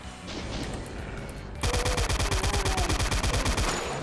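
Gunfire from shotgun-wielding enemies in a Doom game breaks out abruptly into a rapid, evenly spaced string of loud shots that runs on for a couple of seconds after a quieter stretch of background sound.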